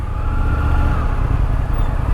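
An Indian FTR 1200S motorcycle engine drones steadily while riding at moderate throttle, a loud continuous rumble mixed with wind rush.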